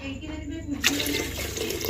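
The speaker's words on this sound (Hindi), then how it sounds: "थोड़ा सा पानी और ऐड करूँगी" Water pours into a pot of khichdi on the stove, a short wash of splashing and gurgling that starts partway through and continues steadily, close by.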